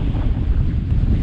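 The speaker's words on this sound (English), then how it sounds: "Still pretty windy, as I'm sure you can make out." Strong gusty wind on a Munro descent in the Scottish NW Highlands near Achnasheen, roaring and buffeting the microphone with a heavy, continuous low rumble and no voice.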